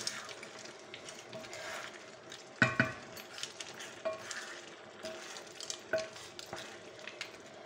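Paella with peas and mussels being stirred in a pan, a low soft sizzle under intermittent clinks and scrapes of the utensil against the pan, fairly quiet and close.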